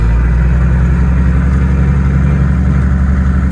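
Turbodiesel-swapped Datsun 240Z engine running as the car drives, a steady loud low rumble with a constant drone throughout, no talk.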